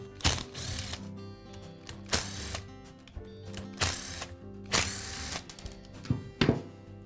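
Screws come out of the rear cap on a DeWALT hammer drill with a power driver, giving a run of short whirring, ratcheting bursts, about five of them, close and clear with quiet gaps between.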